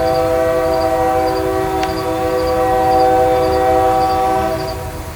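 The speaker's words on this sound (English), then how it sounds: "As soon as the train whistle quits here," A train whistle sounds in a sustained, loud horn blast with a few pulsing repeats, heard near a garden beside the tracks, holding steady before tapering slightly at the end.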